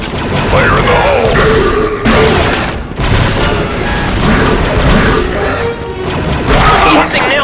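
Grenade blasts and gunfire in the Star Wars: Republic Commando video game, a loud, dense, continuous barrage of booms and crashes heard with battle chatter mixed in.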